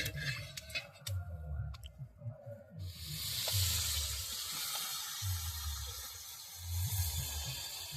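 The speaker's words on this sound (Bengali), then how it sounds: "মাছটা দারুণ ভাজা হচ্ছে।" Fish frying in hot oil at an outdoor group picnic, a hissing sizzle that starts after a few faint knocks and scrapes, holding steady alongside low thumps.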